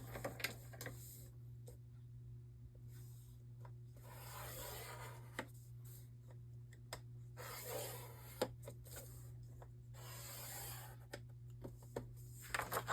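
Paper scored with a scoring tool on a craft board, giving soft repeated rubbing, rasping strokes in separate passes close by, over a steady low hum, with no talking.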